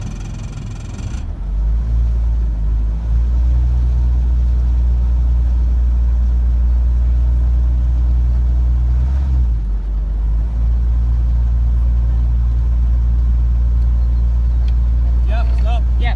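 A steady, loud low engine rumble of a sailboat's motor runs throughout, with a brief dip midway and faint voices near the end.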